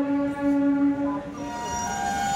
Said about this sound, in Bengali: এখন ঢুকছে মোকামা বারাউনি লোকাল, এটা কিন্তু লোকাল, মেমো লোকাল।